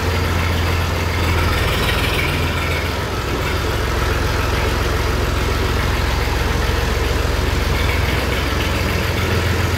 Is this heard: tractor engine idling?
yes